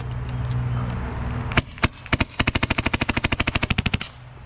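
A Tacamo Hurricane G36KV airsoft rifle fires a couple of single shots, then a rapid full-auto burst of sharp, evenly spaced cracks lasting about two seconds, close and loud.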